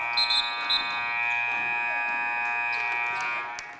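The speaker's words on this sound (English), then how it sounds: "3 seconds, Arterberry can't beat the buzzer" A long, steady electronic halftime buzzer drones at a high school boys basketball game, holding a flat tone for several seconds over faint gym crowd noise before cutting off.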